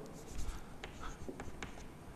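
Marker or chalk strokes on a board while matrix element notation is written out, a few short scratchy marks spaced over two seconds, faint and close, with quiet room tone and no voice.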